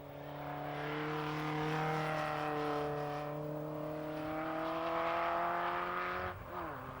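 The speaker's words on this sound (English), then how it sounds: "finding a Lotus Esprit on its last circuit of this session" A Lotus Esprit supercar lapping Castle Combe Circuit in 1990, its engine holding a steady sustained drone at high revs as it runs past, with a brief drop and shift in pitch near the end.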